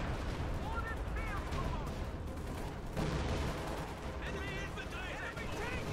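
Panzerwerfer rocket artillery fires in Company of Heroes 2, a dense, continuous barrage of booms, whooshes and rattling explosions mixed with other battle noise, loud throughout with a couple of high whistling tones.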